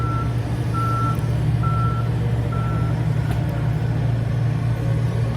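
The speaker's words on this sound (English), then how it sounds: "As you can hear the beeping and everything else in the background." Truck reversing alarm beeping steadily at a distance, four evenly spaced tones over a constant low engine rumble and outdoor background noise near a 2012 Ford Escape repair.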